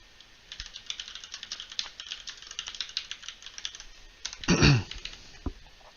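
Someone types on a computer keyboard, producing quick irregular clicks and taps at close range, followed near the end by a brief louder clack or thud.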